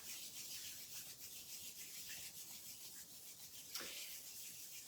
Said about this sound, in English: bring your palms together, rubbing them to create some warmth.